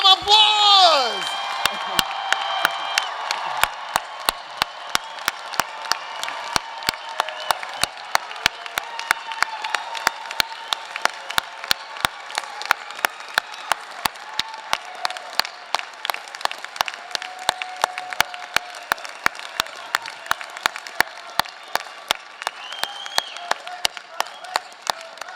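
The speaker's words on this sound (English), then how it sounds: "family and friends, give them a round of applause" Graduates' family and friends applaud at a spring law school convocation, a sustained round of clapping with a few whoops and cheers, with a speaking voice over the crowd throughout.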